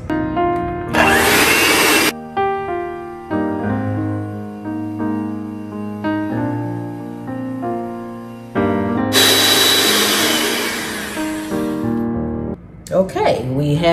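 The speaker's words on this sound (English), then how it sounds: "Now we're going to whisk this until it's in soft peaks." An electric mixer whisks a vanilla ice cream mixture toward soft peaks. The motor whines loudly and steadily, shifting pitch in steps, with harsher noisy bursts at the start and near the end.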